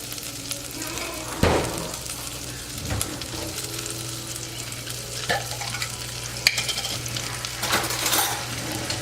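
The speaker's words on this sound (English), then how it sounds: "we got the butter melting down, frying all that goodness up" Butter sizzles and fries in a pan alongside potatoes, a steady crackling hiss with occasional utensil clinks and scrapes and a low hum underneath.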